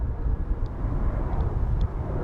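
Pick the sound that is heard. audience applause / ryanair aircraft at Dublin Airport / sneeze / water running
ryanair aircraft at Dublin Airport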